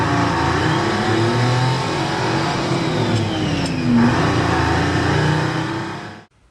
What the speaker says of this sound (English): let's move the forklift and get it into position